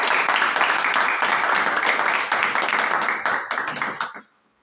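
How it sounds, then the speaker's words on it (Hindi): Church congregation applauding together, a dense, steady wash of clapping hands that holds for about four seconds, then fades quickly into near silence. "ताली देंगे भाई।"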